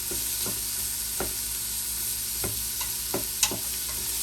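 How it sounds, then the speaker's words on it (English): A spoon stirs a pot of quinoa and bean chili, giving a few separate scraping strokes spaced about a second apart over a low steady sizzle, close and fairly quiet. "Get another stir."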